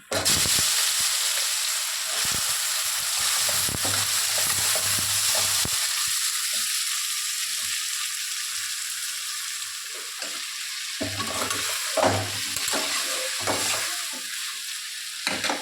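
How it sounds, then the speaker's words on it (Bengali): Chopped ash gourd hits hot oil with black cumin seeds, giving a loud, continuous close-up sizzle with occasional stirring knocks and clatter. "যে চাল কুমড়োটা কেটে রেখেছি এটা দিয়ে দেবো তেলে"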